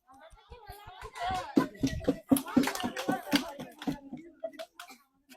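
Rapid, uneven hand clapping from a small group cheering women in an ice-holding challenge, where players keep a chunk of ice in their hands. It builds for a few seconds, then thins out, with voices talking and calling out over the claps.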